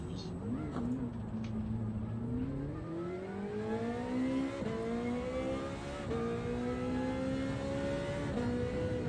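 Ferrari engine in Gran Turismo 7 droning steadily through the whole stretch, pitch rising and falling as it revs through gears, with people talking over it.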